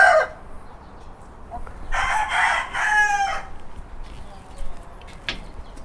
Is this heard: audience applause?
no